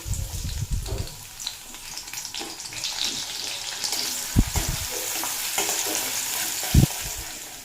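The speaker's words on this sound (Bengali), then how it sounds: "তার মধ্যে আমি অর্ধেক পেঁয়াজ দিয়ে বেরেস্তা বানিয়ে নেব" Finely chopped onions frying in hot refined oil to make crisp fried onion (beresta), a continuous bubbling sizzle with occasional thumps and scrapes from stirring, close up and alone.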